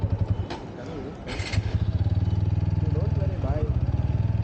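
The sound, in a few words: motorcycle engine running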